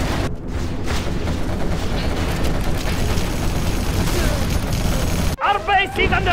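Dense, continuous battle fire from quad cannons and other weapons in Command & Conquer Generals Zero Hour, loud and sustained, with booming impacts. It cuts off abruptly near the end as a short voice line plays.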